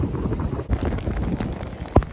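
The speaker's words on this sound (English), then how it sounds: "The wind is howling." Wind gusting hard across an exposed South Wales beach during a storm, a broad steady roar buffeting the microphone with a sharp thump near the end.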